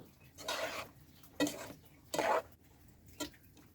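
Fried rice with sauce gets turned in a pan, a few separate scraping and clattering strokes of a spoon against the metal, close but fairly soft, with quiet gaps between them.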